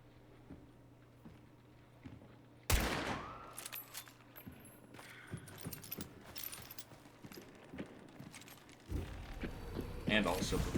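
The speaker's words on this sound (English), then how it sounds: "Right before the gunshot." Gunfire in the Hunt: Showdown video game: one sudden loud shot bursts out after a quiet stretch of faint footsteps, followed by ringing, clattering in-game noise and a second loud swell near the end.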